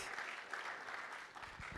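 Applause from an audience at a university orientation for fresh students, a short, even stretch of many hands clapping, moderately distant and fairly soft, continuous with no talk.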